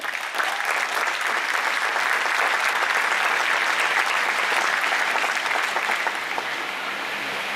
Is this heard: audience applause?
yes